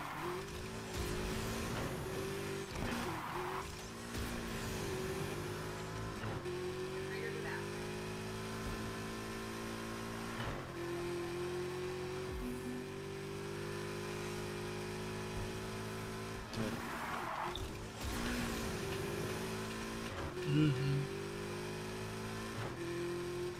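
A racing car in the driving game NFS Heat drifts and speeds around a city course, its engine droning and revving steadily throughout, with shifting pitch and occasional swells of tire noise.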